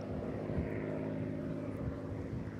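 A propeller warbird flies at the Eastbourne International Airshow, its engine a steady droning rumble with a throbbing low note, held at moderate distance throughout a brief pass.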